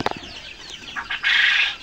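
A bird on a farm flaps its wings and lands on the ground, a short flurry of wing beats that ends in a louder rustling burst, with a few faint clucks before it.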